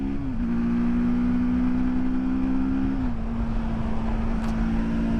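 A TVS Apache RTR 310 motorcycle pulls hard in 4th gear to overtake, its engine holding a steady droning note that dips slightly as revs shift, over constant wind and road noise, with no talking.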